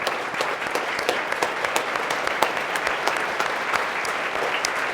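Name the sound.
audience applause for Bobby Carter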